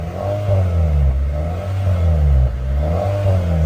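A Honda City GN engine with its stock exhaust revs steadily to around 4,000 RPM, a loud, close, sustained drone that rises and falls gently in repeated swells with no voices over it.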